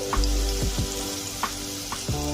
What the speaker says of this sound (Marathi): आता हा कांदाही आपल्याला सोनेरी रंग येईपर्यंत चांगला परतून घ्यायचा आहे।